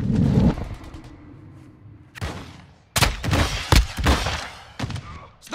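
Gunfire in Warzone DMZ, a loud opening burst followed by a lull, then sharp repeated shots and heavy bangs in quick clusters, close and punchy, with a faint voice briefly in the mix.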